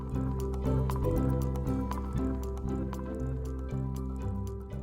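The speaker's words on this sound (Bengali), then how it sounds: "আলুগুলোকে চটকে খুব ভালো করে মাখিয়ে নিচ্ছি কর্নফ্লাওয়ারের সাথে" Boiled potatoes are kneaded and mashed by hand with cornflour, giving soft wet squelches and squishes in an irregular, close rhythm against a low steady hum, fairly quiet.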